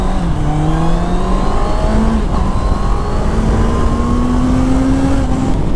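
A Honda CBR650R motorcycle engine revs up loud and near, its pitch climbing through a gear change and rising again, with steady rushing wind beneath.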